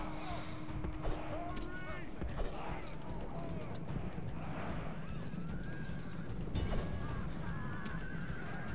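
Horses in the video game Rome: Total War neigh and whinny several times amid battle noise, with hoofbeats and clattering in a constant dense din, while someone talks over it.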